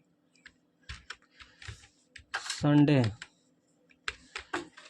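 Code is typed on a computer keyboard in short clusters of crisp key clicks with pauses between. A brief voiced sound breaks in midway.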